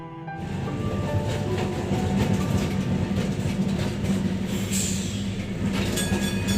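A Kolkata tram rumbles steadily along its rails through city traffic, a loud continuous rolling drone with metallic rattling and faint wheel squeal, heard from on board.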